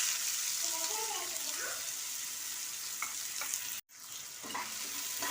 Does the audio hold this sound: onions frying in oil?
yes